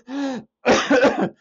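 A person coughs out forcefully during a deliverance service, one short throat-clearing push followed after a brief pause by a longer, rougher burst of several coughs, close and loud.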